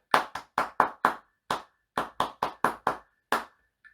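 Sharp, close hand claps in a rhythm-practice pattern for trombone lessons, about a dozen distinct claps in uneven groupings separated by short silences, no talking.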